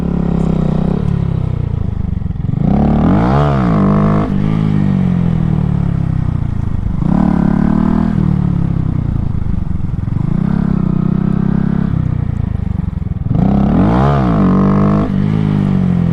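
A car sits in a parking lot while its engine is repeatedly cranked and revved in loud, rough bursts that surge and fade without settling into a steady idle.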